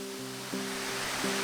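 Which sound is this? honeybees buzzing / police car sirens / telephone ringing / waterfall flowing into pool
waterfall flowing into pool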